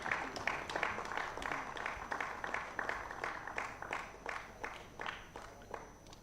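An auditorium audience applauds quiz participants at a national financial literacy quiz, a steady patter of many hands clapping at moderate distance, gradually thinning toward the end.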